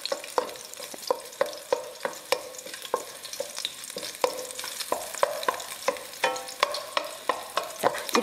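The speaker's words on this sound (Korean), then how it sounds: "약간 센 불에서 볶아주셔야지만이 마늘의 향이 많이 기름에 배서" Garlic stir-fried in oil over fairly high heat in a pan, a steady sizzle with repeated sharp scraping and stirring clicks roughly every half second, close and clear with no talk.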